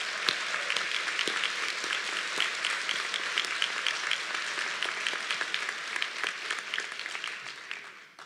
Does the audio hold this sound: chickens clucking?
no